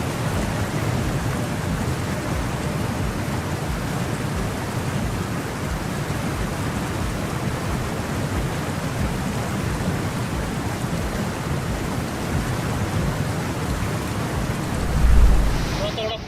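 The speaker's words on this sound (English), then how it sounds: "Terrible floods in Pakistan after heavy rains." Heavy rain pours during floods in Pakistan, a dense, steady hiss that continues unbroken throughout, with a brief low thump near the end.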